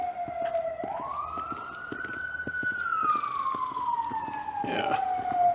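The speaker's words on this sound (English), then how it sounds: "there's a siren in the background" An emergency vehicle siren on the road wails with a rising and falling pitch as it passes nearby, loud and continuous over traffic rumble and scattered clicks.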